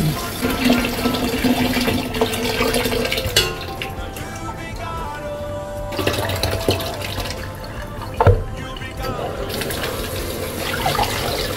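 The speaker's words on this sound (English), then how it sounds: "I rinse it out at least 2 or 3 times" Dried beans are rinsed in water for a beans-and-corn dish in a Hong Kong kitchen: steady sloshing and running water with splashes and drips, a sharp knock of the pot near the end, fairly close.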